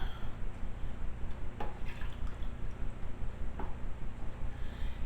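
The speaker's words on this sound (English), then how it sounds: "All right, let me get these full of water." Water runs into Tupperware Bell tumblers, a steady close splashing trickle with a few brighter drips, continuous and moderately loud without speech.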